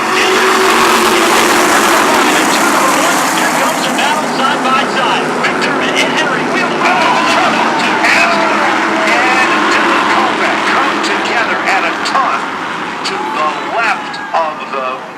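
SK Light Modified race cars roar around an oval track during a late-race feature event, a loud continuous engine drone with passing surges under steady announcer commentary.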